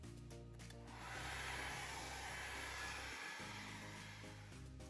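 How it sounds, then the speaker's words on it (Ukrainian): A hair dryer blows with a steady, close whooshing hum that swells slightly, then briefly cuts out and resumes, drying tape on artwork. "Перша порада це висушити все феном"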